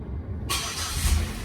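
A 2007 Buick LaCrosse engine is cranked over with the key: after near silence, a loud broadband whirring rumble starts abruptly and keeps going steadily, with no talking.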